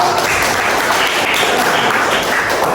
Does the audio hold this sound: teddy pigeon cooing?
no